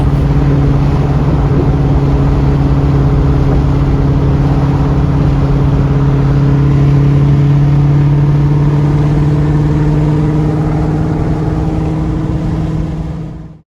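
Ford Mustang cruising home, heard from inside as a loud steady engine drone at constant speed with road noise, holding an even hum throughout before cutting off at the end.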